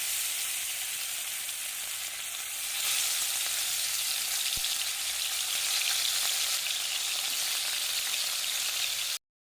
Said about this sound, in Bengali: তেল গরম হয়ে গেছে মাছগুলো এবার তেলের মধ্যে দিয়ে দেবো